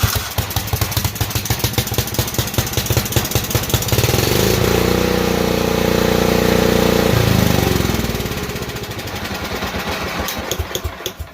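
Kohler single-cylinder engine on choke: sharp, rapid firing pulses at the start settle into a steady, loud running drone that later drops off into uneven chugging, with no talk.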